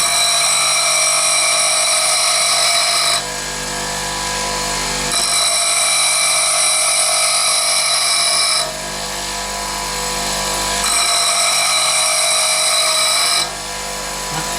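Drill bits being sharpened by hand give a loud, steady grinding whine in three long passes, each separated by a brief dip in level, with no voices.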